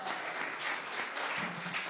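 Audience applause at the grand opening of a recovery center, with steady, dense clapping from a crowd filling the whole two seconds at moderate loudness and no talk over it.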